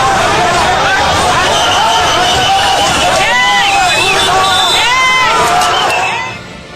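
An unruly crowd of protesters riots in Ahmedabad, Gujarat, a loud dense roar of many shouting voices with rising yells partway through, steady throughout before dropping away at the very end.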